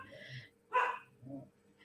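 A few dogs give short, sharp barks and a soft whimper in a quiet room, the sounds spaced apart with brief gaps between them.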